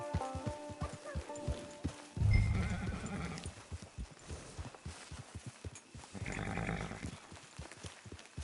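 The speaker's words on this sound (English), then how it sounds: "Get your horse." A horse in the Red Dead Redemption Online video game whinnies and snorts over clip-clopping hooves near a camp, with a second louder neigh later, moderately quiet overall.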